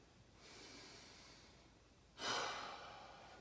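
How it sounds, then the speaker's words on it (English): Deep breathing during a beginner flexibility stretch: a long, soft inhale-like hiss, then a louder, sharper exhale that trails off, close and alone without talk. "what you want to do is breathe"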